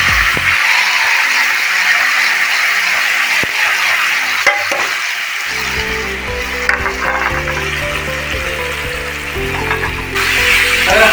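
Steady, loud sizzling of chicken momo filling frying in hot oil in a wok, a dense crackling hiss that continues throughout, with a low hum joining partway.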